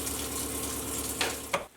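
Water runs from a tap inside an off-grid cabin fed by a drilled well and a 55-gallon holding tank, a steady close hiss with a couple of brief splashes near the end.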